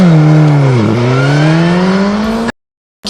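A Kawasaki Z1000 motorcycle accelerates hard and close, its loud engine note climbing steadily in pitch after a brief dip, then cutting off abruptly.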